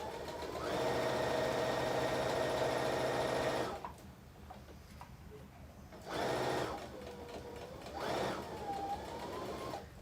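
A sewing machine stitches around a fabric scrunchie in long steady whirring runs, loud and close, with short pauses between bursts of stitching.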